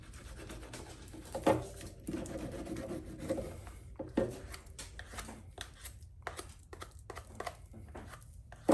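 Brown hard shoe polish from Germany rubbed onto a leather sheath, a soft close scraping and scrubbing with a few sharper scuffs, alone without talk.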